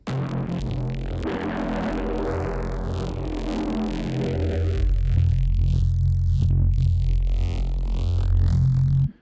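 A thick, rumbling neuro bass synth tone plays continuously, heavy in the low end with gritty distortion and slowly sweeping filter movement.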